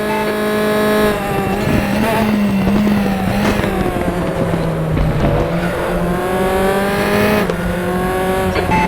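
F4 and Zonda race cars at Macau in RaceRoom Racing Experience, engines screaming loud and close, rising and falling through gear shifts in a continuous multiclass pack roar.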